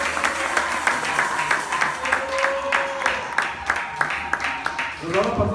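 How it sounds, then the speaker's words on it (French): A church congregation at a French-language worship service applauds and acclaims, with a steady run of rhythmic hand claps under a loud leading voice and background music. "Priez, bien-aimé, acclamons pour notre Seigneur. Acclamons pour ce bien fait."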